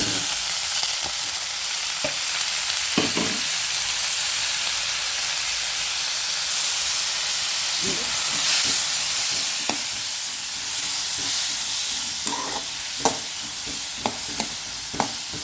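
Green unripe tomatoes sizzle steadily in a hot pan for a fritter-style dish, with scattered sharp scrapes and taps of stirring rising over the constant frying hiss.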